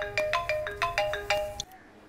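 A phone ringtone repeats a short bright melodic pattern several times, fairly loud and close, then cuts off abruptly as the call goes unanswered.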